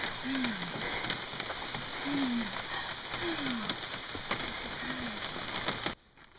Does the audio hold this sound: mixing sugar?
no